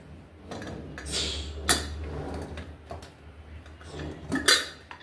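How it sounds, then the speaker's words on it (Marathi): A pressure cooker holding stuffed brinjal curry is opened after two whistles and cooling: close metallic clanks, scrapes and clinks of lid and utensils in a quiet kitchen. "हे बघा आपल्या कुकरच्या 2 शिट्ट्या झाल्या आहे आणि कुकर गार पण झाला आहे. तर आता आपण उघडून बघू."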